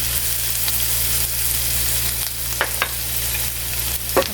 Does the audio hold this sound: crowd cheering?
no